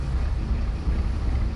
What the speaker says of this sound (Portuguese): Os motores a diesel ganham vida.